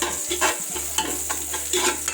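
Garlic frying in hot oil in a pan for spaghetti tomato sauce, with a steady close sizzle and repeated scraping stirs over a faint low hum.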